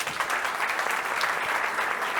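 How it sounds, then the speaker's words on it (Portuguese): Audience applause for panelists at a banking technology conference, a steady, dense wash of clapping throughout the short stretch with no speech over it. "Pessoal, salva de palmas para os nossos painelistas."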